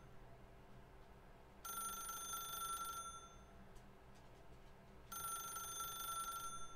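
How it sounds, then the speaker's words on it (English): A telephone in The Stanley Parable video game rings in two long bursts of bright electronic trilling, separated by a pause, fairly faint over a quiet background hum. "How much longer till this thing finishes ringing?"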